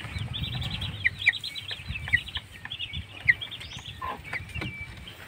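Chicks and chickens, native Bisaya birds and broilers, cluck and cheep together, a busy flock with high peeping and a few sharper nearby calls over low background rustle.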